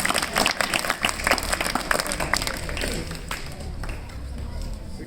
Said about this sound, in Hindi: ताली थोड़ी बजा दिया करो एक आध बार।